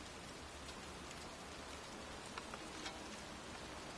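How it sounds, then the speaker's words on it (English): Steady rain falls outdoors on a cold day as an even, faint hiss with no breaks, a few drops landing slightly more distinctly in the wash of sound. "It's cold. It's raining. I'm standing outside getting soaked."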